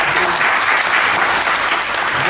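Loud, dense applause from a theatre audience after a stage comedy play, many hands clapping steadily and close for a couple of seconds with no talk.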